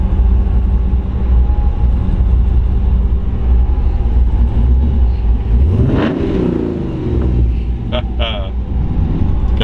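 Supercharged ZL1 LSA V8 in a 1958 Chevrolet Yeoman two-door wagon with a 4L80E transmission, a steady deep rumble close by that swells into a brief rev midway, with faint talk in the background.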